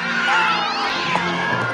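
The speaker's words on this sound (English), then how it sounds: "Herding cats. Don't let anybody tell you it's easy." Several cats meow and caterwaul together in a noisy, crowded scene, with overlapping cries rising and falling over a steady busy background.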